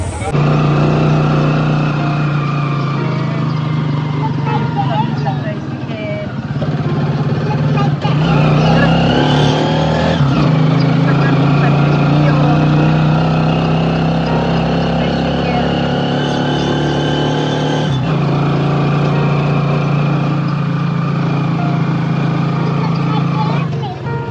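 Steady, loud motorized tricycle engine drone with a constant low hum on a ride to the Padre Pio church in San Jose Del Monte, Bulacan, running throughout with slight shifts in pitch and no clear talk.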